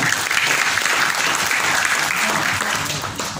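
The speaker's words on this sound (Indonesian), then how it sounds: "Tepuk tangan dong buat semuanya." A crowd claps in a dense, steady wash of applause at a Quran handwriting training session in Medan. It stays loud and even for a few seconds, then tapers slightly at the end.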